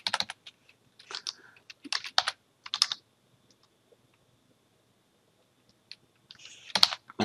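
Computer keyboard typing, close crisp keystrokes in short clustered bursts with a quiet pause in the middle before another flurry, heard alone.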